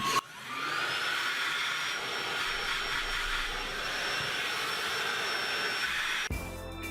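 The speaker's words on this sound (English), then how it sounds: "So now just vacuum out these holes," A vacuum cleaner sucks dust out of holes freshly drilled in a pool table, a continuous whining roar running steadily at close range before switching off abruptly near the end.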